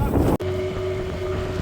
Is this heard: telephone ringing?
no